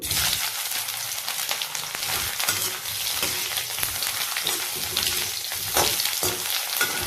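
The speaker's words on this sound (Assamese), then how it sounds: "এতিয়া এইখিনি সুন্দৰকৈ মই ভাজি ল'ম" Oil sizzles and crackles steadily as bitter melon fries in a pan over medium flame, a dense, continuous hiss with occasional sharper pops and stirring clicks.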